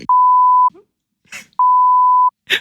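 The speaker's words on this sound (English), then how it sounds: "I'll bleep it." Two loud, pure censor bleeps, each about half a second long, cover a spoken name, with brief snatches of talk heard between and after them.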